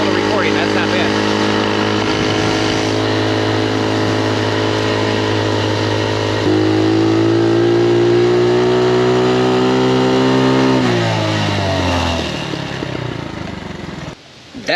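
Small Honda CT70 motorcycle engine while riding on roads and trails, a steady close buzzing drone that rises in pitch midway as it speeds up, then falls away as it slows near the end.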